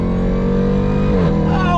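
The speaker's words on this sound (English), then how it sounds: "We're going on throttle in this Jeep Trackhawk" A modified 2018 Jeep Trackhawk accelerates hard from a dead stop, its engine roaring loud and close and climbing steadily in pitch throughout.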